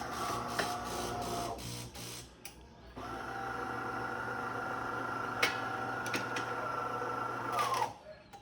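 A DeLonghi Magnifica EVO coffee machine switches on with a mechanical whir and rapid ticking. After a short pause it runs again with a steadier buzzing hum that stops abruptly near the end.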